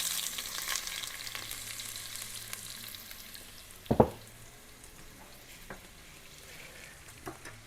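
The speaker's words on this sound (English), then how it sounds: "Then we're going to add our cup of diced celery." Diced celery sizzles and fries in a hot pan with grated carrots for homemade tomato sauce, a steady close hiss with a sharp clatter of a utensil stirring midway, then quieter frying.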